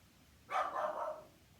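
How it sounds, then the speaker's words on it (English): A single dog bark, somewhat distant and muffled, rising sharply then trailing off over a quiet background. "all that barking you could hear was from a couple of doors down"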